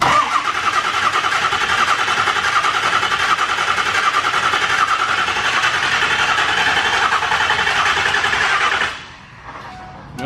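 A truck engine with a possible thrown rod cranks and runs for several seconds with a steady, loud mechanical drone, then cuts off abruptly near the end, leaving a brief quiet tail.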